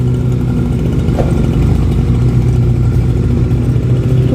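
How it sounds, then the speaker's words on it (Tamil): A ride-on lawn mower cutting grass, a loud continuous engine drone with a low rumbling throb, steady and close throughout with no talking. "ஒரு குட்டி வண்டி மாதிரி இருக்குது அதில் எப்படி கட் பண்ணுது பாருங்கள் கட் பண்ணி புல் எல்லாத்தையும் அடித்து தள்ளுது"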